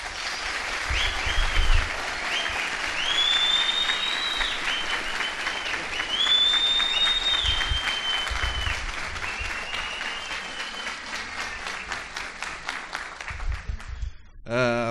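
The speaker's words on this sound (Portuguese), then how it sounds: "Uma salva de palmas." Sustained applause greets a speaker at a public-security talk, a broad wash of clapping from a seated audience with whistles and a few shouts rising over it, gradually thinning toward the end.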